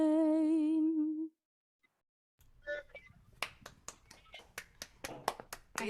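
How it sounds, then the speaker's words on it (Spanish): Scattered hand claps from a small audience at a live song event, starting after a held sung note fades. Roughly a dozen sharp, separate claps arrive in a loose, uneven rhythm, with a brief voice just before them. "para que escuches el aplauso real"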